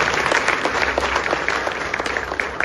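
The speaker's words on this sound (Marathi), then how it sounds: "त्याबद्दल जोरदार टाळ्या वाजवून त्यांचं अभिनंदन करावं." Applause from the crowd at a political gathering in Pimpri Chinchwad, Pune, steady dense clapping throughout, fairly loud and continuous with no talk over it.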